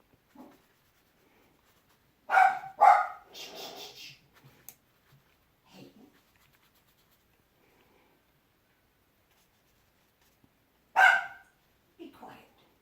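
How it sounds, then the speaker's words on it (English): A pet dog barks a few times in a quiet room during a watercolor painting session, two loud close bursts early on, then a single sharp bark later, with faint sounds in between. "Sorry about that. My dog."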